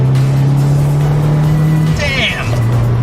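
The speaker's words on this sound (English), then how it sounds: "now with these mods, I can actually hear the exhaust" A 2017 Subaru WRX Limited with aftermarket exhaust mods pulls hard, its low droning note climbing steadily, then cutting briefly before resuming, loud and close, with a sharp squeal in the middle and a voice talking over it.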